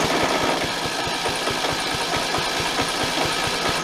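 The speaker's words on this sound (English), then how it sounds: "Let's see if it'll crank over" A car engine cranks over with a rapid, regular low thumping rhythm, steady and close throughout under a broad mechanical hum.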